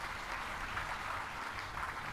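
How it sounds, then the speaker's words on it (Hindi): Audience applause at a Hindu religious katha on Shri Jagannath Ji, a dense, steady wash of many hands clapping in a large gathering, continuous and fairly loud throughout without speech. "तुम ताली बजा रहे हो।"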